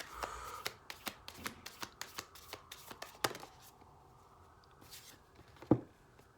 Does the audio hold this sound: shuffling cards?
yes